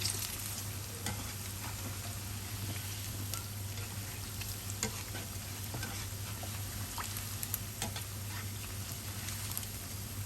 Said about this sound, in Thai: คนกลับไปกลับมานะคะ กว่าเขาจะสีเหลืองทั้งลูกนะ คนกลับไปกลับมา